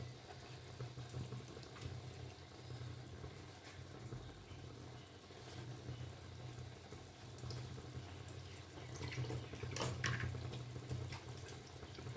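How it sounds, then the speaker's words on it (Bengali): Tap water running steadily while a mixing bowl is rinsed at a kitchen sink, a continuous faint splashing wash with a low hum underneath and occasional clinks near the end. "মিক্সিং বোলটা ধুয়ে একটু জল অ্যাড করে দিলাম"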